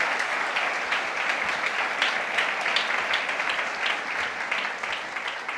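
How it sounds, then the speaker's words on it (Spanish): Church congregation applauding at a Spanish-language worship service, a steady dense wash of clapping that stays loud and even throughout, with no voices over it. "Denle un aplauso al Señor."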